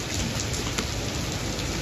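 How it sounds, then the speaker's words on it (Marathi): Heavy rain pouring down in Tembhurni, a dense, continuous roar of drops hitting surfaces, loud and even with no pauses and no voices. "असला पाऊस चालू आहे बघा आमच्या इकडे"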